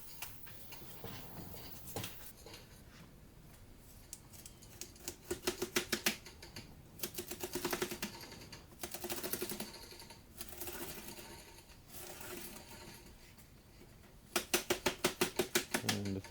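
Interlocking foam floor pieces being cut by hand, heard as repeated bursts of rapid, crisp clicking and crunching with short pauses between strokes, close and fairly quiet, with no talking.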